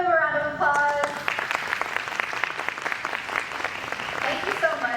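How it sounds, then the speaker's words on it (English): Audience applause at the close of a real estate development talk, a dense, steady wash of many hands clapping that swells in after a brief tonal opening and carries on loudly for several seconds. "Can we give him a round of applause?"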